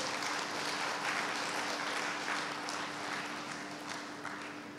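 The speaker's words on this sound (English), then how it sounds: "Please give yourself a round of applause." A crowd applauds steadily at the launch of the Pensonic Smart IoT series Toush, a dense, sustained wash of clapping from a room full of people that tapers slightly toward the end, with a faint steady hum underneath.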